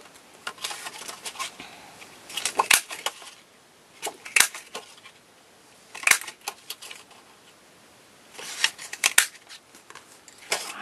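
A handheld paper punch clicks and crunches through paper, cutting out five small flowers in separate sharp bursts with quiet pauses between them, heard close.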